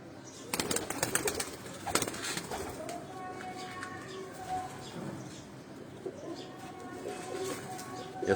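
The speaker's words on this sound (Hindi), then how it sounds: "यहाँ ज्यादातर सियालकोटी ब्रीड के जो कबूतर हैं ये आपको नजर आएंगे" Sialkoti breed pigeons coo on a rooftop, low rolling calls repeating near and far, with a burst of wing flapping early on and faint chirps in the background.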